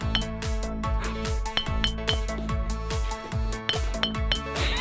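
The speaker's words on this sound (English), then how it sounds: "This is a glass bottle." A glass bottle is handled in a park, clinking in a quick run of bright, ringing knocks about twice a second, close and clear with no voices.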